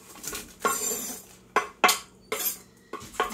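Sliced vegetables dropped into a crock pot, a series of sharp clinks and clatters in irregular bursts, close by with no talking.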